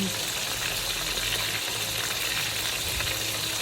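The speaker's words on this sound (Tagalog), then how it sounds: "magluto na naman tayo ulit ng crispy hipon" Crispy shrimp frying in a pan, a dense, steady sizzle and crackle of hot oil, close and loud throughout with faint stirring beneath.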